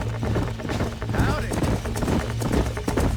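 Horse hooves clip-clop steadily in the video game Red Dead Redemption, over a bed of low droning game music, with a voice briefly speaking a greeting.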